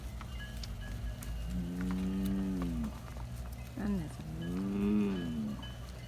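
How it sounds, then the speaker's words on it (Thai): Cattle moo in two long, drawn-out calls, close and loud, as the herd waits to be let into the pen in the evening; a brief voice speaks between the calls. "มันถึงร้องนื้ออยากเข้าคอก"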